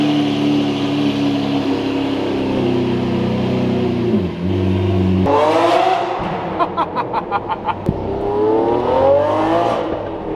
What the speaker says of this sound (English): this is a cold startup on a squeaky door Aventador.